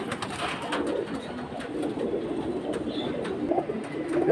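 Silver and Saf-Chila pigeons cooing in soft, low, repeated calls, close by and fairly quiet, over a faint background murmur with no speech.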